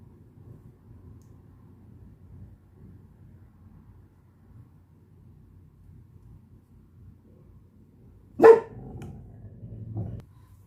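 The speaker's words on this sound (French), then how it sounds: "mon chien aboyait" A dog barks indoors in an otherwise quiet room: one sharp, close bark near the end, followed by a softer second yelp.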